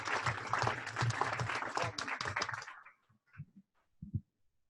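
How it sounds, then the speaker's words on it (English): Audience applause at a leadership academy event, a few seconds of moderate clapping from a small group that stops abruptly, followed by a few faint scattered sounds. "Let's give Charlie a round of applause before we do that, because that was awesome."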